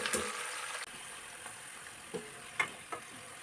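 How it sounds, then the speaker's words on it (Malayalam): Garlic, green chilli and curry leaves frying in hot oil give a faint, steady sizzle with a few soft pops and stirring scrapes scattered through. "എണ്ണ നല്ലവണ്ണം ചൂടായി കിടക്കുന്നതുകൊണ്ട് പെട്ടെന്ന് തന്നെ ഇതെല്ലാം ഒന്ന് മൂത്ത് കിട്ടും"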